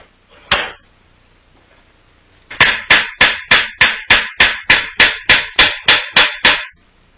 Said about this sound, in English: the end is hammered into shape without leaving any wrinkles in the middle.